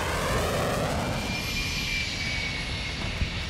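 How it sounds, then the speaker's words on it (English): Spy plane in Modern Warfare 2 droning overhead as a steady, continuous engine roar with a faint high whine, holding at an even level throughout. "what kind of spy plane is that?"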